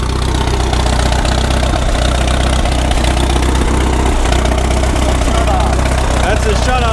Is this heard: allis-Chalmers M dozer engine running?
yes